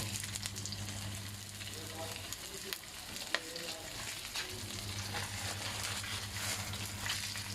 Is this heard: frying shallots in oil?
yes